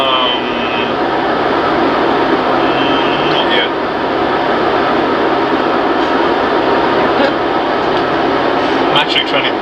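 Steady, loud broadband engine drone of an airliner on approach to Kai Tak airport in a flight simulator, continuing throughout while two people talk over it.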